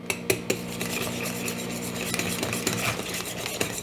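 A spatula stirs eggs into gluten-free carrot cake batter in a bowl, making close wet scraping and sloshing with a few sharp clinks against the bowl in a steady rhythm.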